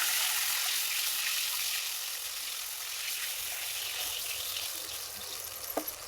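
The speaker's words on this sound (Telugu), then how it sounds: "ఇందులోనే వాటర్ పోసుకోవాలి." Water is poured into hot oil in a pan after ingredients have browned golden, giving a loud broad hissing sizzle that slowly settles into a steady bubbling fizz.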